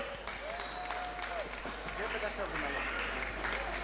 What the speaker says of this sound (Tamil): ஒரு நல்ல கைத்தட்டல் கொடுத்துடலாமா?